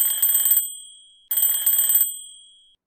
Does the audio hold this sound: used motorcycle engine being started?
no